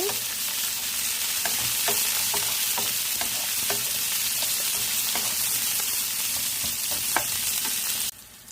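Chopped onions sizzling in a pan for a fish curry, a dense steady hiss with regular stirring scrapes and taps, close up and without talk, cutting off near the end.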